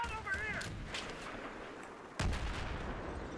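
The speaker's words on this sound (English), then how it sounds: "Sounds like there's someone getting shot underneath." Battlefield 3 gunfire in a multiplayer match, a few sharp shots and a heavy blast with rumbling echo over steady battle noise, partly under a player talking.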